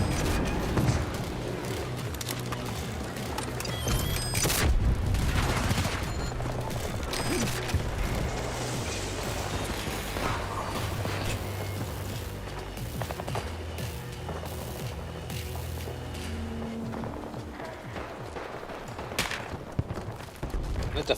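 Gunfire rattles through a shooter video game, with dense bursts and scattered shots over a constant noisy battle backdrop, plus occasional in-game voices.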